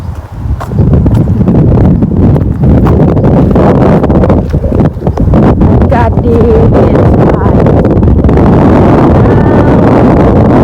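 Strong early-morning wind in Norway roars and buffets the microphone steadily throughout, with rumbling low gusts and faint rustling.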